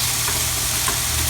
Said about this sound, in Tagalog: Still mixing the stir-fry vegetables.